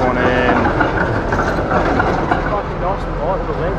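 A tram passes by at night on a city street, a continuous rumbling roll with faint clickety-clack running under people talking close by.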